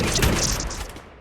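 Rapid burst of gunfire from a newly unlocked gun in a video game, loud, dense and continuous, fading slightly at the end.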